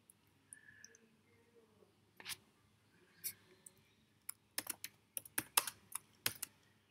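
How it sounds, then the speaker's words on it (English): Someone types a student name on a computer keyboard in a quiet room: faint scattered keystrokes at first, then a quicker cluster of sharp, close clicks. "I type the next student name."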